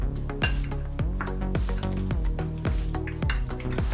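A spoon mixes chicken lollipop marinade in a bowl, striking the rim in a steady run of bright, ringing clinks roughly every half second, close and clear with no voices.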